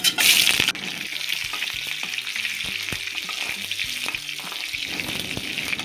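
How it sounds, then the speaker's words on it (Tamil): Steady crackling sizzle of chopped onions frying in hot oil for Tamil-style chicken kuzhambu, with a louder hiss at the start and light stirring clatter throughout. "வெங்காயம் நல்லா வதங்கட்டும்"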